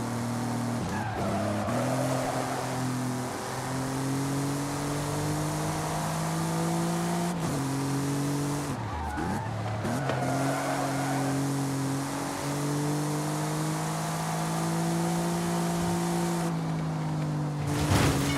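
Car engine in Forza Horizon 5 droning steadily and loud, its pitch climbing through each long gear before dropping at shifts, with tire squeal and skidding at moments.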